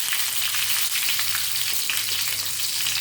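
Cinnamon and cloves frying in hot oil, a steady close sizzle that stays level for the whole stretch with no talk over it.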